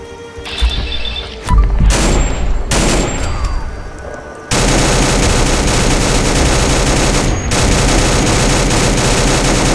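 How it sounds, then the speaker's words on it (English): Loud bursts of rapid gunfire in the video game Fallout 4, first in separate volleys and then as a sustained, dense barrage that continues without pause. "Echoing gunfire in the distance."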